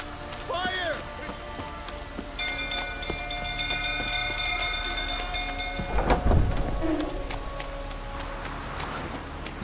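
Rain falls steadily in The Witcher 3 video game, with a deep rumble of thunder swelling midway, underneath game voices and tonal music.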